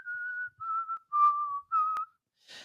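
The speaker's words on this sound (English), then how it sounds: "he hears someone whistling" A person whistles a short tune of four sustained notes with brief pauses between them, clear and close, with a small click and a faint rustle at the end.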